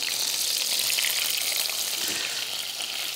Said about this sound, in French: On va bien les saisir, mais on ne va pas les dorer